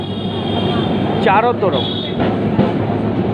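A Kolkata tram runs along its track with a loud steady rumble and rattle, a couple of squealing wheel screeches breaking in, while a person talks over it.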